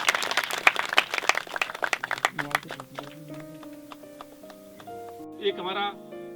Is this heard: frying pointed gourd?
no